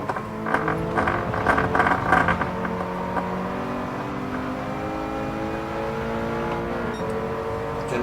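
A race car engine in the Gran Turismo 7 video game roars loud and close, with a revving burst at first that then settles into a steady, rising whine as the car runs on.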